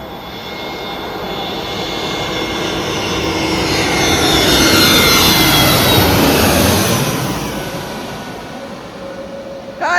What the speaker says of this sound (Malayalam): 2:19 ആയപ്പോ അടുത്ത ഫ്ലൈറ്റ് വരുന്നുണ്ട്